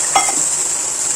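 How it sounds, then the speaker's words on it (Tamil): Jaggery dissolving in about half a tumbler of water in a pan, boiling down toward syrup for sweet pongal: a steady, loud bubbling hiss with a brief stir or clink near the start, and no one talking. "வெல்லம் கரைஞ்சி பாகு வரைக்கும் நல்லா கொதிக்கட்டும்"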